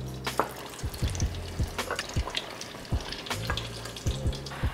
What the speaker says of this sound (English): once that oil hits 350 degrees, it is time to drop your empanadas